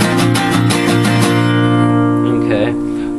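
Acoustic guitar strummed fast in a song's pattern, a steady run of quick down-up strokes ringing close and loud, the strumming stopping near the end as the last chords fade.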